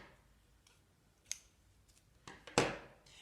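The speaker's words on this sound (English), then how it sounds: "So now I've got my thread and I'm just going to cut a little bit off." Scissors snip thick embroidery thread for a felt brooch: a few sharp, quiet cuts, with the last one the loudest, over a near-silent background.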